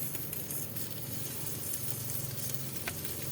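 Continuous crackling sizzle of welding underneath a truck's chassis, with a steady low hum and scattered sharp pops nearby.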